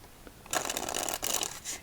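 A deck of playing cards being shuffled close up, a brief riffle of crisp flicking card noise lasting about a second, then a short second burst.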